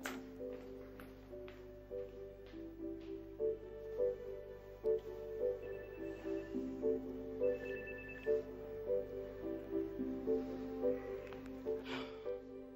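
A telephone rings indoors in a repeating electronic melodic pattern, clear and fairly close, continuing for several cycles with faint rustling beneath.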